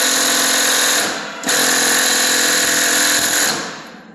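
A pneumatic impact gun rattles loudly in two hard bursts, briefly easing in between, as it works on rusted bolts while rebuilding an F-150 step side truck bed.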